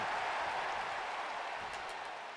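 Steady broadband crowd roar and cheering from a wrestling arena in WWE 2K24, sustained and loud throughout with a slight fade toward the end, no talk.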